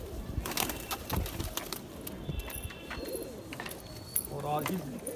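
Pigeons coo and flutter nearby, with soft calls and wing flaps, while people talk over them throughout.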